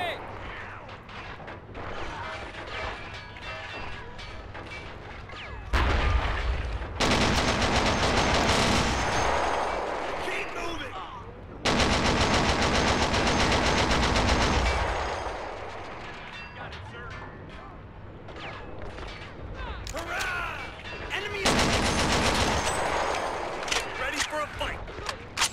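Loud bursts of gunfire and machine-gun fire in Men of War: Assault Squad 2, heavy sustained volleys that cut in and out, with voices calling out between them.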